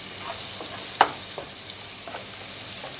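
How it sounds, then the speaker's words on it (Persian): Garlic and turmeric sautéing in hot oil for a traditional Azerbaijani ash soup, giving a steady close sizzle with a single sharp clink of a spoon against the pan. No one speaks. "اونم یه تفت کوچیک میدیم. نمیخوایم سیرمون زیاد سرخ بشه"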